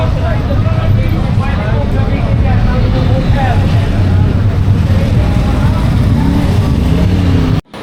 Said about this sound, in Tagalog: ito yung pangalawa nating motor na iti-test ride. Ang Kawasaki Eliminator 450.